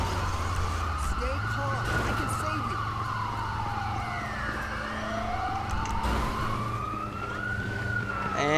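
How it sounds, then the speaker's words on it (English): Wailing emergency vehicle sirens in a police patrol video game set in Queensland, several overlapping sweeping tones rising and falling over a low engine drone, steady and fairly close, with speech-like game noise beneath. "So many sirens."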